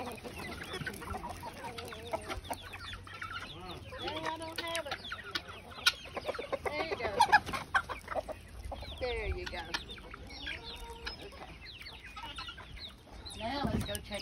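Chickens cluck and chatter near and far, several birds at once with a brief crow-like call, soft outdoor ambience behind them.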